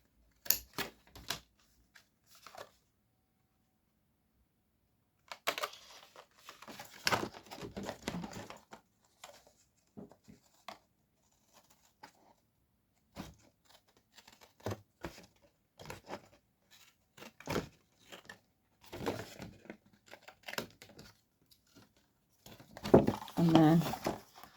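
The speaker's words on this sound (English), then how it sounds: "I'll just come with my scissors and just cut any bits that I haven't quite cut through." Scissors snip through card while a swing card is made from a papercraft collection, giving close, sparse clicks and short cutting bursts separated by pauses, with rustling of paper.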